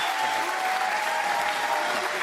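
A crowd at PBA bowling playoffs applauding steadily, a dense wash of clapping that holds at even loudness for the whole stretch, heard from within the arena.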